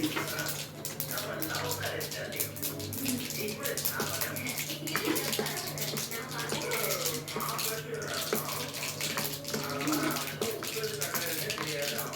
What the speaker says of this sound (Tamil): கொஞ்சம் இதில் தண்ணி ஊற்றி